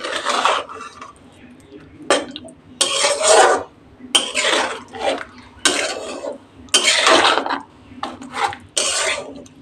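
Katla fish pieces being mixed with spices by hand in a bowl, heard as bursts of wet squelching and scraping against the bowl that come in irregular repeated strokes, close up.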